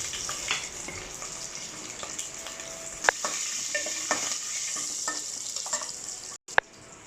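Curry leaves and whole peeled garlic cloves frying in hot oil, a busy crackling sizzle with sharp pops and stirring clatter, a brief cut near the end, no voices.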